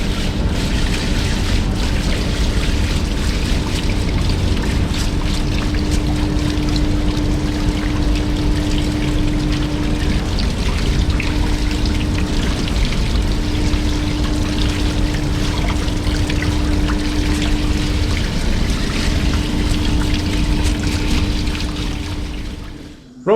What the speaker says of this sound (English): Right, going to get the leg all washed off.